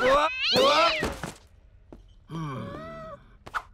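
A cartoon cat meows and groans in several drawn-out, wavering cries, close and loud, separated by short pauses, with a brief thump in between.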